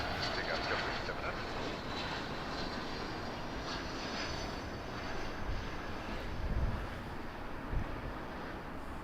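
JetBlue airliner taking off from runway 24 left at LAX, a steady broad jet engine roar heard from a distance, continuous and fairly even, with faint voices mixed in.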